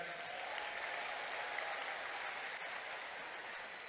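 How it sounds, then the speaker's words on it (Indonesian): Crowd applause at an Indonesian political speech, a dense continuous wash of clapping from a large audience, even in level and somewhat distant. "boleh beri tepuk tangan kepada mereka"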